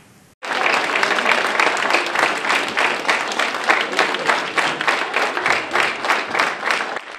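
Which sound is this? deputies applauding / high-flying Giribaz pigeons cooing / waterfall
deputies applauding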